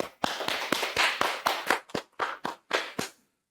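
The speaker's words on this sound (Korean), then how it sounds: "큰 박수 한번 부탁드리겠습니다." Applause for a guest speaker at an online job-support information session, a few pairs of hands clapping in uneven, sharp bursts close by, fading out at the end.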